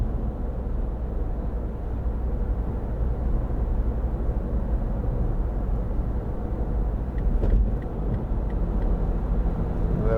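A 2012 MINI Countryman 2.0 Cooper SD cruising in drive at about 70 mph and just over 2,000 rpm: steady low engine drone and road rumble heard from inside the cabin, constant and broadband with no talk.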